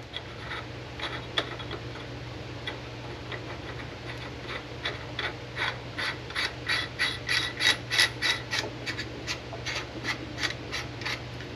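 A bolt is hand-threaded into the bearing caps of a Mazda Miata differential, producing a run of quick, close metallic clicks that grow louder and more regular as it turns, with no talking.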